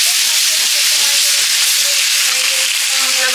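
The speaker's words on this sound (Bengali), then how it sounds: "জল দিয়ে মশলাটা কষে নিচ্ছি।" Spice paste (masala) frying with water in a pan: a loud, continuous sizzle and hiss of steam, close up, with faint stirring underneath.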